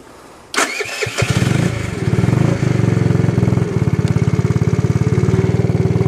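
A small motorbike fitted with an 80cc engine kit kicks into life after a quiet moment, then settles into a loud, close, rapidly pulsing two-stroke idle and revving buzz.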